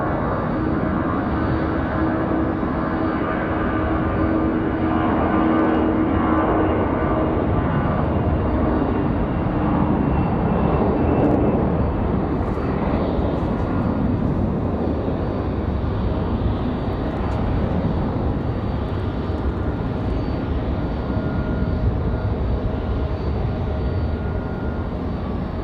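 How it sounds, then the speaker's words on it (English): An Airbus A319 jet takes off from Raleigh-Durham airport on a windy day, its engine roar steady and loud throughout, a broad continuous rumble with a rising hiss up top and no voices. "Good sounding departure for the A319."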